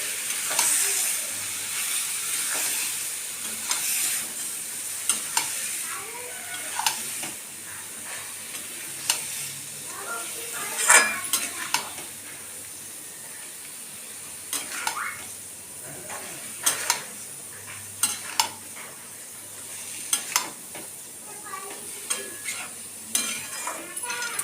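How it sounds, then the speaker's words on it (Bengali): Mutton being stir-fried in a kadai for a Bihari-style curry: a steady sizzle runs throughout, broken by repeated scraping and clinking of a spatula against the pan at an uneven rhythm, close and moderately loud. "এটা আমি কড়াইয়ে ভালো করে কষে নিয়ে কুকারে দেবো।"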